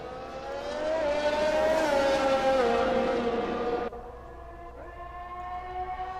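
Racing cars in a sim racing game roar down a straight at France, a loud, rising engine whine that holds steady and then drops sharply in pitch as the car shifts.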